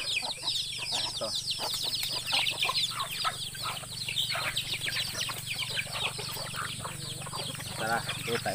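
A crowd of backyard chickens clucks and chirps busily while being fed Madre de Agua leaves, with dense overlapping calls and some wing flaps close by throughout.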